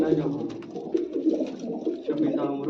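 A fifteen-year-old white-eyed pigeon coos in soft, repeated low calls close by, mixed in with people talking nearby.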